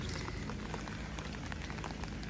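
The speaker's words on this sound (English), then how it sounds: "The garden is very happy with this warm rain." Warm rain falls steadily on a vegetable garden with pole beans and sunflowers, a dense, even patter of drops close around with no talking.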